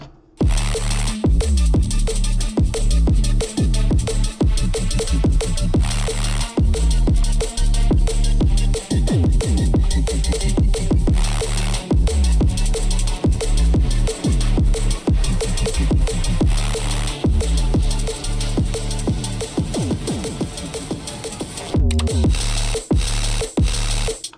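An electronic music drop from a producer's project plays loud and dense, with a driving beat and layered synths that keep steady energy for over twenty seconds before a brief dip near the end.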